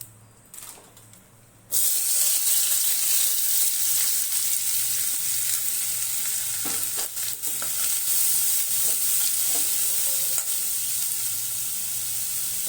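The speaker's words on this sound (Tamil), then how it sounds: "நான் வெங்காயத்தை போட்டுக்கிறேன் வெங்காயம் கருவேப்பிலாம்" Onions and curry leaves fry in a hot pan with a steady, loud sizzle that starts abruptly after a quiet moment and holds throughout, with a few small pops and stirring knocks.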